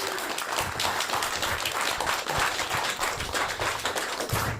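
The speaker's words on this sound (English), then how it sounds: "Round of applause." A crowd at the live Teletext Sofa Club show in Harrow claps a round of applause as a guest is brought up, a dense, even patter of hands at moderate volume with no voices.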